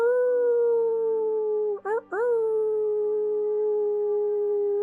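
A long, steady, wolf-like howl from a voice imitating a wolf during a guided moon meditation, a smooth sustained tone broken briefly by a short wavering dip before it carries on.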